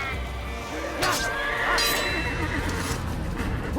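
Horse neighing in Assassin's Creed, a loud whinny sweeping up near the one-second mark over steady game ambience, with a second rougher burst shortly after and low background rumble throughout.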